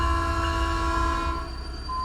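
In the American Truck Simulator game, a train passes a crossing with a loud, sustained horn over a steady rumble of rail cars, the horn fading near the end.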